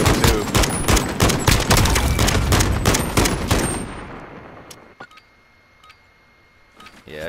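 Rapid automatic gunfire from the player's weapon in Call of Duty: Modern Warfare, a loud sustained burst of dense shots over about five seconds that cuts off into quiet, then a few isolated faint clicks and taps.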